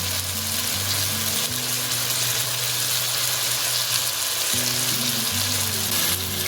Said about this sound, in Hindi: चॉप्ड लहसुन डाल रही हूँ मैं यहाँ।